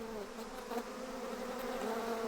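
Africanized killer bees swarm with a steady, dense droning buzz, continuous and fairly loud, with no voices.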